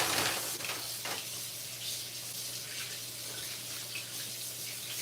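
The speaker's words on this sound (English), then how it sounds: "I rinse my pieces off." Running tap water splashing over pieces of meat being rinsed in a kitchen sink, a continuous hissing rush close by with a louder burst at first, no voices.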